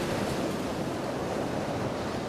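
Steady, broadband roar of ocean waves and swell at sea, continuous and fairly loud with no distinct breaks, as a storm brews; no voices.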